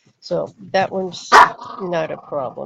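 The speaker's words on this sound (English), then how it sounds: "If you hear puppies in the background, it's because I have puppies and they're arguing." Puppies bark and squabble in the background with a few short yaps and whimpers, partly buried beneath a person talking close to the microphone.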